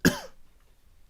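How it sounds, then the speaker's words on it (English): A single sharp, close cough at the start, followed by quiet room tone. "coughing"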